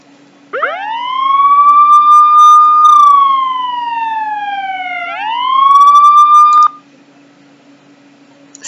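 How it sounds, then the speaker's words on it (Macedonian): A loud siren wails alone, its tone sweeping up sharply, holding, gliding slowly down, then climbing again before cutting off abruptly. "Сирена."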